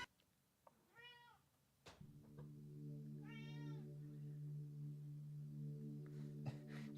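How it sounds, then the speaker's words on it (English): A pet cat lets out two drawn-out, insistent meows, close and clear, followed by a thump and a steady low electronic hum that fills the rest of the moment. "my cat is yelling at me"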